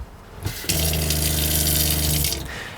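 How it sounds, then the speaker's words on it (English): An onboard water pump on a bus switches on and runs with a steady mechanical hum while water gushes through the plumbing; it starts after a short click and runs for nearly two seconds before cutting off. "what we're looking for is the water pump right here. As you can hear, it turned on, and now we've got water."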